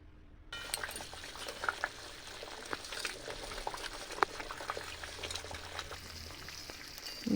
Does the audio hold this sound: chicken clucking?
no